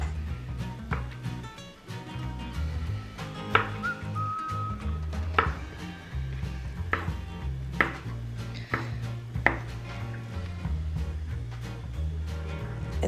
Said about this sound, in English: I also cut some Korean fish cakes into small little bits.